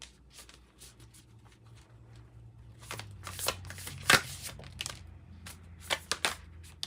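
Moonology Manifestation Oracle cards riffle and slap through repeated close shuffles, light papery bursts growing busier and sharper toward the end, with no voices.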